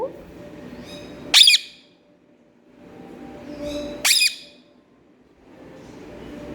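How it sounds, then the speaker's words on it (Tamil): A peacock gives two loud, sharp, rising calls a few seconds apart, piercing and close, over a soft rustling background, with a faint start of another noise at the end. "மயில் கத்தனோடனே உனக்கு சவுண்டு கொடுத்துக்கிட்டே இருக்கணும்"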